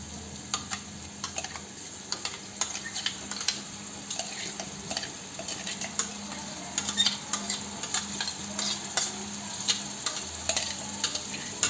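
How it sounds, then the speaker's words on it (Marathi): Coarsely ground spinach paste poured into a hot pan, giving a steady low sizzle with scattered clicks and scraping stirs, close and moderately loud, no voices. "आपण वाटण मिक्सरला आबडधोबड वाटलेलं आहे पालकाचं, हे त्यात ओतायचं।"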